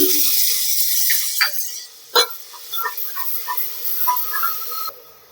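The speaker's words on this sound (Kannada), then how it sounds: "ಈಗ ಟೊಮೆಟೊ ಒಂದು ಸ್ವಲ್ಪ ಫ್ರೈ ಆದವು ರೀ" Onions and tomatoes sizzle and hiss in a pan, a steady frying crackle near the mic with a few soft clinks and a brief louder burst partway through.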